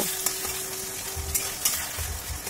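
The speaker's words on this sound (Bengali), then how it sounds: "টক দইটাকে মশলার সঙ্গে খুব ভালোভাবে কষিয়ে নিতে হবে" Spice masala cooks with sour yogurt over a low flame for a vegetarian paneer, potato and cauliflower dalna. A bright, steady sizzle carries a few soft stirring taps and scrapes, with no talking.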